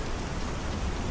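Steady rain in a Microsoft Flight Simulator 2024 flight of a Beechcraft B58 Baron over Indonesia, a dense, even hiss of falling drops with no break.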